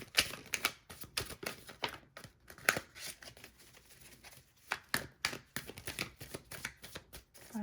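Tarot cards being shuffled by hand in quick bursts of riffling and slapping, close and fairly quiet, with short pauses between shuffles.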